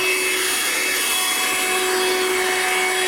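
A 12V DC Audew portable car vacuum cleaner runs steadily at close range with a constant high whine and airy hiss, unbroken and without talk.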